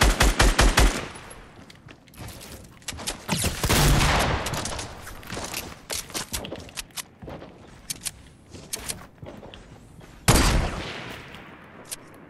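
Loud bursts of rapid gunfire crack out in a Fortnite match, shots rattling in quick volleys with brief gaps, some close and sharp, others softer and farther off.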